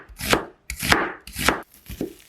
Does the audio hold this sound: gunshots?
no